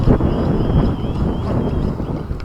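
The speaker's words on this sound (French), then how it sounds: "Il y a vraiment du vent" Strong wind buffets a microphone outdoors during a GPS drone test flight, a loud, steady low rumble that runs through the whole stretch with no voices.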